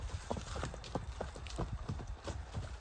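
Hooves of a horse offered for sale clip-clop on hard ground as it is turned around, a close, uneven run of sharp knocks lasting the whole moment with no talk.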